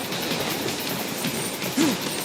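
A train rumbles along steadily in Metal Gear Rising: Revengeance, a dense, continuous roar of wheels and wind with a brief metallic squeal near the end and no voices.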